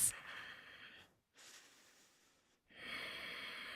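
Slow, deep breathing held during a yoga pose, close and soft: a long inhale, a brief silence, a hiss of exhale, then another breath begins.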